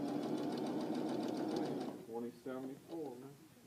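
A sewing machine stitches along the right side of the presser foot with a steady, close mechanical whir for about two seconds, then stops as a person starts talking.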